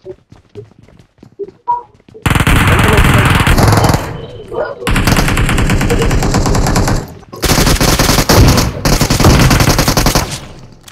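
Bursts of automatic gunfire from the battle royale game PUBG, loud and close, arriving in long rapid strings separated by short pauses, with light tapping at the start.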